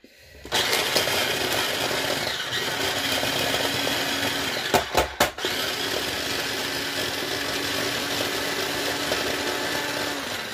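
Onion, garlic and jalapeno are chopped for lentil pancakes in a steady, loud buzzing whir that runs continuously, broken briefly by a few sharp pulses midway.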